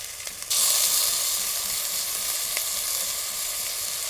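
Garlic paste sautéing in a pan of oil for a traditional banana flower vegetable dish, a steady loud sizzle that swells suddenly after a brief quieter start and then holds evenly with no talking.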